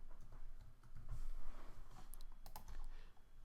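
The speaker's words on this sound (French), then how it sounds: "J'appuie sur la touche F2 pour renommer" Quiet, close computer keyboard typing, a few scattered key clicks and taps with no voices.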